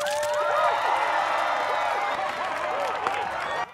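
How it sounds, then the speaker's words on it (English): Applause and cheering from a crowd in a movie scene, a dense continuous wash of clapping mixed with whoops and excited voices that holds steady, then drops off sharply at the end. "Slow clap."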